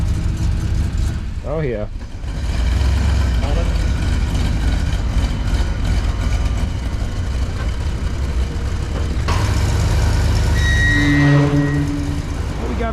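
Plymouth Fury hot rod engine running on a dyno at a tuning shop, a loud steady roar with a revving rise midway, while a man briefly exclaims over it.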